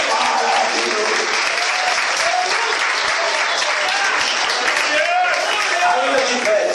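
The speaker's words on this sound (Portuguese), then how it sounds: "Dê uma salva de palmas para Jesus" A church congregation applauds for Jesus, continuous enthusiastic clapping from a crowd with voices calling out over it, loud and sustained throughout.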